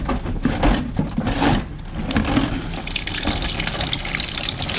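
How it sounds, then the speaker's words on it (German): Orbeez water beads pour and splash into a giant emoji stress ball, a steady gushing, watery rush close up that swells and eases over several seconds with no talking. "Die Obbys-Perlen plätschern in den Ball."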